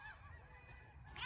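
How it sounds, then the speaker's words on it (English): Geese honk as they fly over a farm, faint and distant, with a few brief calls above a low background hum. "Some geese flying over."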